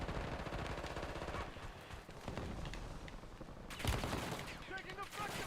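Video game gunfire, rapid bursts of shots crackling through a busy battle scene, with a louder blast near the middle and voices talking underneath.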